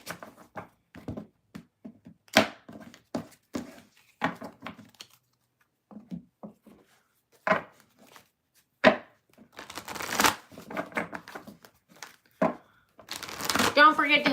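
Tarot cards shuffled by hand in a run of soft, crisp riffles and flicks, close by, with someone speaking in between.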